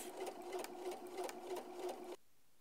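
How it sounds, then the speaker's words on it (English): A sewing machine stitches the flap of a fabric messenger bag in a fast, steady mechanical rattle for about two seconds, then stops abruptly into near silence. "Don't forget to back stitch on both the top side of the top flap, so on each end. And go slowly as you go around the curve."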